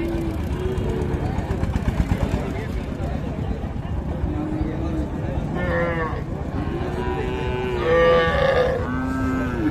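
Cross-bred cows and calves moo at the Cheradangi livestock fair, several drawn-out calls near and far over a constant crowd murmur, with someone talking throughout.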